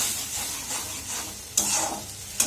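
Spices are sautéed in a pan in the bhuna style, with a steady sizzle under repeated stirring strokes and two sharp clanks of the utensil against the pan near the end.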